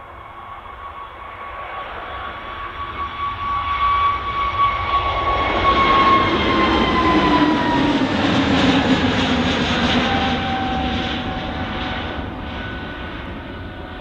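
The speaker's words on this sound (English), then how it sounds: "Okay, next departure is just spooling up. It's an EasyJet off to Paris Charles de Gaulle." An easyJet Airbus A320neo, registration G-UZEE, spools up and departs Manchester for Paris Charles de Gaulle. The jet roar swells steadily to a loud peak with a falling whine, then eases off slightly, and no one talks over it.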